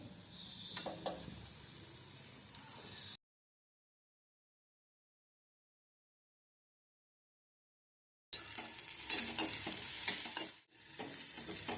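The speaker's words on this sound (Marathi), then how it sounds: "तर आता याच्यामध्ये गवार टाकून घ्यायचे आहे" Cluster beans tossed with turmeric and garam masala in a hot pan give a steady close sizzle with scraping stirs, broken by a long silent gap before louder frying and stirring resume.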